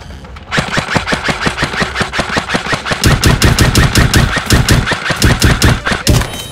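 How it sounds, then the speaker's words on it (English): Airsoft light machine gun firing full auto at an abandoned saw mill, a rapid continuous rattle of mechanical shots that grows louder and denser partway through, fairly close and without talk. "He's shooting his LMG like right down there on the bottom though. Or he's going full auto."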